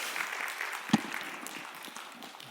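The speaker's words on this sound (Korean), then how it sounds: "다시 한번 큰 박수 부탁드립니다" Faint, thin applause in a church youth worship service, a soft wash of clapping with one sharper clap standing out early on.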